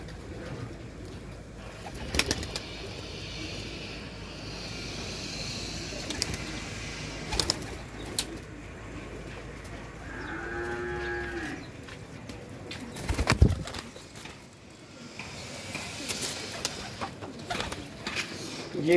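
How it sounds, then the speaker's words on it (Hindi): Pigeons coo in a soft, low burbling call near the middle, over quiet outdoor background with a few sharp knocks and rustles; no one speaks. "दिखाएं ज़रा कबूतर।"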